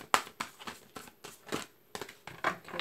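Tarot cards being shuffled by hand, with a series of short papery riffling bursts and soft slaps in an irregular rhythm, close and fairly quiet, with no voice.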